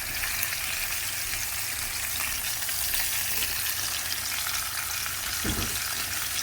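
Pork chops sear in a pan with a continuous dense sizzle and crackle close by, steady throughout with a brief thump near the end.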